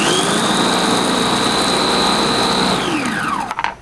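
A Dreepor multi-food processor on turbo spin whirs loudly with a steady high motor whine that holds for several seconds, then falls in pitch as it winds down, ending in a few rattling clunks.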